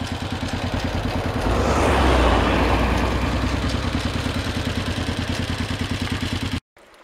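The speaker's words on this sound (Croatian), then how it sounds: "automobil dolazi" A car engine runs loud and close with a steady rattling pulse, swelling as it passes, then cuts off abruptly near the end.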